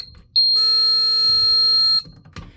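The piezo sounder on an old Edwards 1527 fire alarm panel sounds a shrill, piercing electronic tone continuously for about a second and a half, loud and close, with a short chirp before and after.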